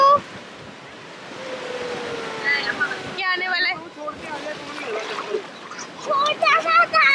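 Ocean waves wash and splash on Kovalam Beach, a steady surf hiss with bursts of surging water, while adults and children talk and call out nearby.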